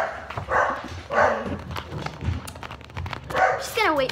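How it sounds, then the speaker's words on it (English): A small dog barks in short bursts indoors while people talk nearby, several sharp yips spaced through the moment with speech running between them. "Our dog won't stop barking."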